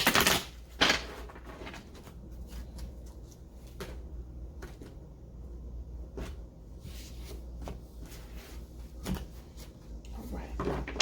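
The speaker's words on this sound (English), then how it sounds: "Now it just needs to be shuffled." Oracle tarot cards being shuffled by hand, a series of soft close riffles and slaps with quiet gaps between them and no talk.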